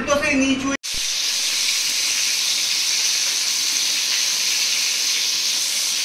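Pointed gourd (potol) fries in a pan with a loud, steady hiss and sizzle that goes on unbroken after a brief moment of voice at the start.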